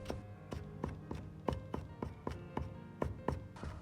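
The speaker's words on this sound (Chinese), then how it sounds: "稍微剁细一点，这样在炒制酱汁的时候更容易出香味" A kitchen knife mincing smashed garlic and ginger on a chopping board for a home-style tofu sauce: a steady run of about fourteen crisp, evenly spaced chops, close but soft.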